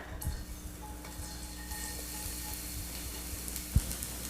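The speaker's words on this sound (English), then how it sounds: "Let it sizzle for a few seconds and give it a little head start." Garlic fries in a hot pan with a generous amount of olive oil. A faint, steady sizzle hisses throughout, with one soft knock near the end and no voices.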